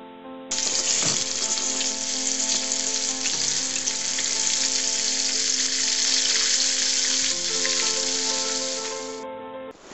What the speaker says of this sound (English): we can now dip the fish pieces in flour and fry them in very hot oil.